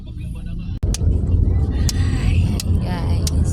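Road traffic in Mindoro, with cars and jeepneys rumbling steadily nearby, a low continuous engine drone broken by brief passing swells, while people talk over it.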